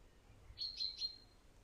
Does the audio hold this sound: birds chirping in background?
yes